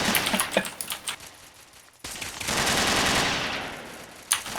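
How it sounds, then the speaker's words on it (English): Rapid crackling pistol gunfire in Red Faction, a quick string of pops at the start, then a loud sustained roar and one more sharp shot near the end. "hearing a lot of pistol gunfire"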